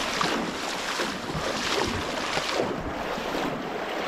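Water of the Banate river rushing steadily close to the microphone, a continuous broad wash with wind buffeting and no speech.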